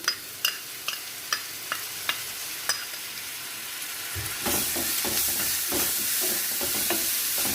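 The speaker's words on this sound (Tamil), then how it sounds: "நல்லா பச்சை வாசம் போகிற அளவுக்கு நல்லா வதக்கிக்கலாம்" Onions sautéing with ginger garlic paste and salt in a pan for vegetable cutlets, a soft sizzle punctuated by regular spoon taps, then louder frying with rapid scraping strokes of stirring.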